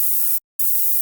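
A distorted, high-pitched hi-hat built from an atmospheric sample in a synth, with added unison, sounds as a bright hissing noise burst that cuts to silence midway, then returns.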